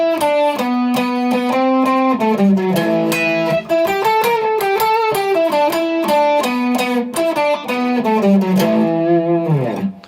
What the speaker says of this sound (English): And then we get the guitar solo